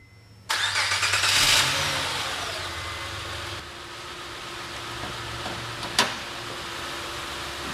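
A 2007 Honda Ridgeline RTL 4WD with a 3.5-liter VTEC V6 cranks and catches with a loud burst, revs briefly, then settles into a steady, lower idle, with a short click partway through.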